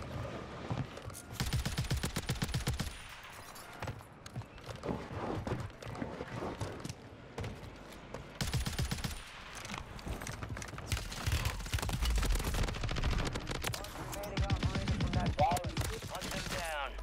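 Rapid bursts of battle rifle gunfire on Rebirth Island in Call of Duty Warzone, loud and close, crackling in repeated volleys with brief pauses and a player talking now and then between shots.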